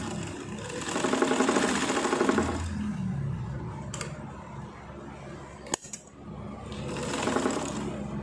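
A sewing machine stitches a bra belt in two close, rattling bursts of rapid needle strokes, separated by a quieter pause with a few sharp clicks.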